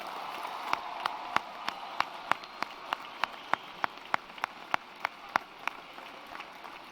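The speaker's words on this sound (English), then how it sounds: "Let's give our veterans a round of applause." Even, regular sharp claps ring out at a steady pace over a soft hall ambience, the sound of a commencement audience applauding its graduating veterans, with no talk over it.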